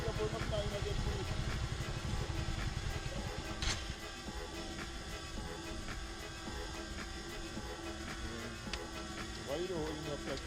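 A motorcycle engine runs steadily during a hill start. A low, even drone rumbles through the clip under talking nearby, with a brief sharper burst partway through.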